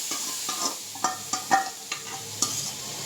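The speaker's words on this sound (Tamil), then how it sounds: "தாளிக்கிறதுக்கு கொஞ்சமாக கடுகு" Mustard seeds tempering in hot oil, crackling and popping in a pan with short sharp spitting bursts about twice a second over a low steady sizzle.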